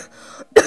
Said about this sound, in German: Mein Husten ist auch immer noch da.